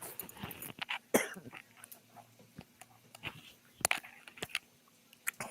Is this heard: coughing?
yes